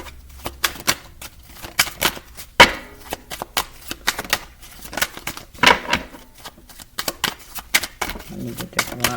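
Tarot cards are shuffled repeatedly, giving sharp riffling bursts and clicks in an irregular rhythm, close by, with a voice briefly near the end.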